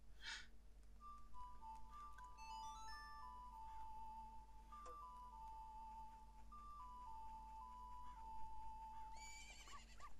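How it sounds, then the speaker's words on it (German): Epona's Song from The Legend of Zelda: Majora's Mask 3D plays as a clear, sustained ocarina-like melody over a steady game background, ending with a horse's whinny near the close. "wir können ja schon mal Epona rufen. So, wollen wir den Pferdesong?"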